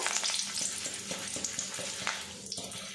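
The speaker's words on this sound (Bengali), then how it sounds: "এবার এই তেলের মধ্যে কয়েকটা কারি পাতা আর শুকনো লঙ্কা ভেজে নেব।" Curry leaves and dried red chillies crackle in a pan of hot oil, giving a loud, dense, continuous sizzle with scattered sharp pops and light stirring scrapes.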